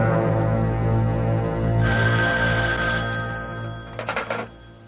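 An old telephone rings in a mystery radio drama, loud trilling bursts over a low background hum, with a final short double ring.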